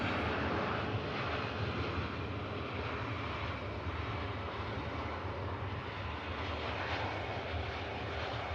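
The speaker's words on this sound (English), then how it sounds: "Absolute textbook touchdown from the crew there." An airliner landing on the runway at Manchester Airport, its jet engines roaring in a steady, loud, broadband rumble for the whole stretch, with no voices over it.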